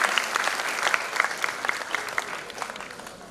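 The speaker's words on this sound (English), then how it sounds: "A huge round of applause for all the dignitaries." An audience at a university inauguration event applauds the dignitaries, a full, continuous round of clapping from many hands that stays steady and fairly close before tapering slightly toward the end.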